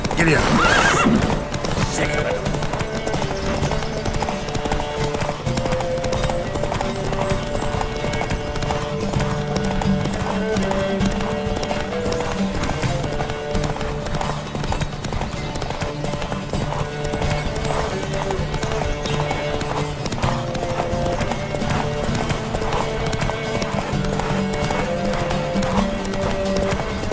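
Horses gallop in a race in The Witcher 3 with continuous rhythmic hoofbeats and a neigh near the start, running under game music throughout.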